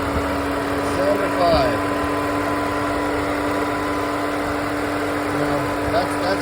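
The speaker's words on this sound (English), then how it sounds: "Lower erratic idle on this Escape." A 2002 Ford Escape engine running at a low, uneven idle caused by a vacuum leak at a loose intake manifold bolt, a steady close hum with a faint whistle-like tone and slight wavering, no talking.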